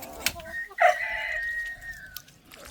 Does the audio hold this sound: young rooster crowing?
yes